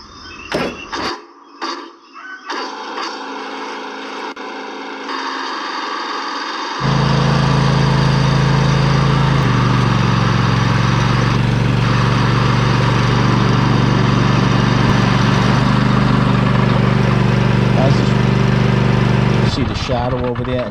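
A Cub Cadet riding mower engine is started to test its PTO clutch, cranking briefly after some clunks, then catching and running at a steady loud drone that rises in pitch and holds before a mechanical clatter near the end.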